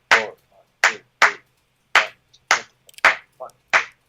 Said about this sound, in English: This is, for example, 3/2 son clave.